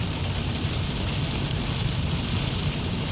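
Steady rain drumming on a car driving about 65 mph on the road, a dense, loud, even hiss with road and wind rumble underneath, no voices.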